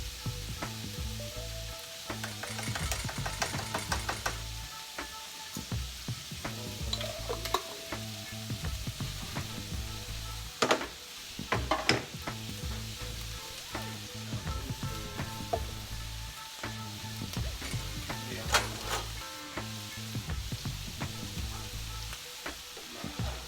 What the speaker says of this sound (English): Add a little bit of minced garlic to this.